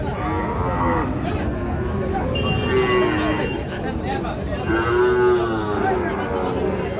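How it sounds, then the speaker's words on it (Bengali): A 7–8 month old Sahiwal bull calf moos at a busy cattle market, with drawn-out bellows that rise and fall twice, close by, over crowd chatter and people talking. "শাহিওয়াল ষাঁড় বাছুর,"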